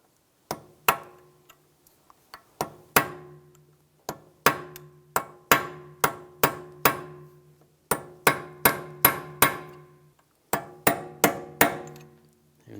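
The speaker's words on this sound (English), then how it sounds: "We're just going to take a punch or a chisel and just try to bend it back a little bit." A hammer drives a punch or chisel against a peened front CV axle nut on a 2001-2006 BMW 325Xi, giving about two dozen sharp metallic strikes in uneven bursts with short pauses, close and loud.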